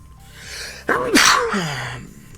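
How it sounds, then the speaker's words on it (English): A single loud sneeze bursts out close by, preceded by a sharp inhale and trailing off into a low vocal sound. "On stream sneeze"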